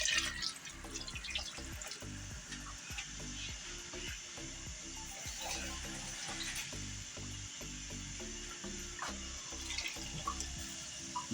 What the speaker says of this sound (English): Alright, I'm gonna add some water.